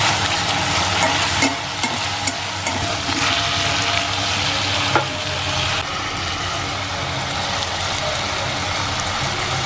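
Asafoetida, cumin, onion, garlic, ginger and green chili fry in hot oil with a continuous crackling sizzle, with occasional stirring scrapes and taps over the steady hiss.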